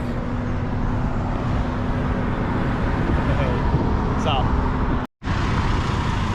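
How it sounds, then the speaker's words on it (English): Heavy road traffic in downtown Owego, New York roars loudly and steadily nearby, a constant rumble of passing vehicles with a brief dropout near the end. "But a negative is all the really loud traffic."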